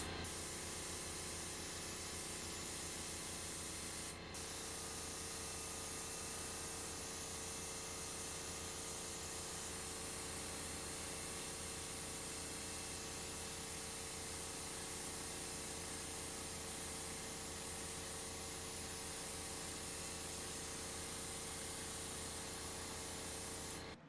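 Wet coats of spray are laid onto a carbon seat plug, a continuous loud hiss that runs unbroken, with a brief pause near the start before spraying resumes close to the microphone.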